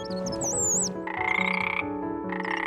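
Golden frogs at a pond croak in loud, near, continuous trilling calls that overlap in pulsing bursts, with no voices.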